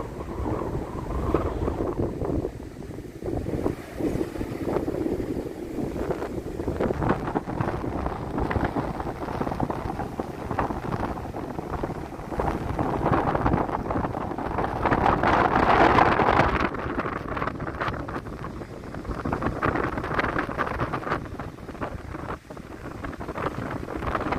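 Steady, heavy wind at a rocky beach in South Korea buffeting the microphone with a continuous roar, swelling briefly midway, with no voices.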